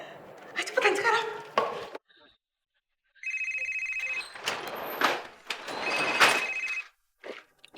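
A telephone bell rings in repeated bursts inside a home where a rice shop is being raided, trilling loudly between stretches of agitated talk and general household clatter.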